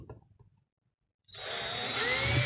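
A 3.5 mm bit drills mounting holes in a mechanical vending machine, the power drill starting abruptly after a brief pause and running steadily and loud, its whine rising in pitch toward the end.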